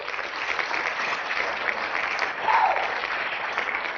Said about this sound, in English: I gave her a great hand clap